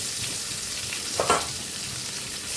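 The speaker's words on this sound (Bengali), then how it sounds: "আদাটা দিয়ে দিচ্ছি, ভেজে নেব" Crushed ginger frying in hot oil for a fish curry, a soft steady sizzle with one brief louder stir or scrape midway, fairly quiet and close.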